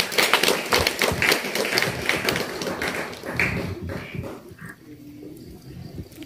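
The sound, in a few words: audience clapping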